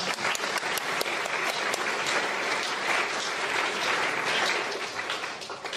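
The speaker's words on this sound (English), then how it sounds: "Please give them applause." Academic awards ceremony audience applauding Mandarin learners, sustained dense clapping from a large crowd, even and loud throughout before tapering slightly at the end.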